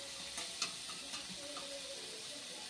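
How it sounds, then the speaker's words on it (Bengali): Vegetables for a winter vegetable soup frying gently on a low flame, giving a soft continuous sizzle with a few light stirring clicks, quiet and close. "একদম হালকা লো ফ্লেমে ভাজতে হবে"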